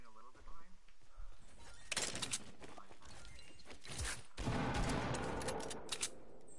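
Pistol gunshots in a video game, several sharp rapid bursts at moderate distance, interspersed with quieter game noise, with a person talking between them.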